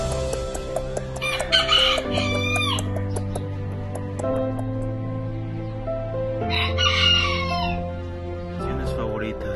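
Miniature roosters at a small breeding farm crow in long drawn calls, with clucking between, over a steady hum of sound; two clear crows stand out amid the ongoing fowl noise.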